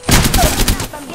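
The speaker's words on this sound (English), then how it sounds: "I'm getting shot at." Rapid video game gunfire, a quick burst of several close, loud shots in a stuttering automatic rhythm, tapering off at the end.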